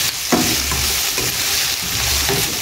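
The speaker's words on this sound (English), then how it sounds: "to my vegetables that are being sauteed" Vegetables sauté in a pan for a Jamaican-style sweet and sour chicken, giving a loud, continuous sizzle and crackle with scraping stirring strokes close by.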